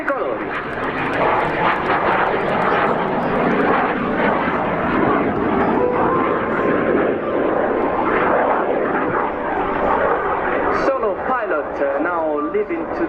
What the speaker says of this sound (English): this is the tail slide of the solo pilot of Frecce Tricolori